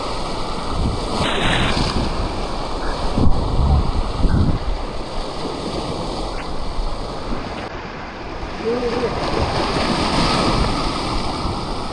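Sea waves wash in continuously at a shoreline fishing spot, a broad rushing surf mixed with wind buffeting, fairly loud and steady throughout with no voices.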